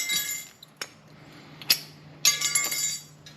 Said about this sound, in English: now we're just going to go ahead and remove our caliper hardware